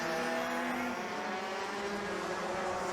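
DD2 Masters racing karts howl down the bottom straight at Zwartkops during the 2021 SARMC Africa Open. Their engines make a loud, steady, high-revving drone with layered tones, and no voices can be heard.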